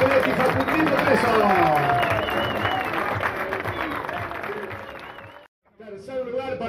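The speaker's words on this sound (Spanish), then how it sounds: "fuerte el aplauso para los cadetes menores de Álvarez, Andrés y Facundo Preso." Crowd applause fills a karting championship awards ceremony in Uruguay, steady dense clapping mixed with cheering and a loud announcer voice, before the applause cuts off abruptly near the end and talk briefly resumes.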